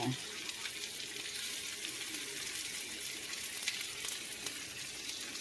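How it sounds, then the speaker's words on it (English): Spinach cooking in a pan on a home stove, a soft, continuous sizzle and hiss at an even, fairly quiet level, without clear talk during the stretch. "Let that spinach do itself a little cooking, a little bit more cooking"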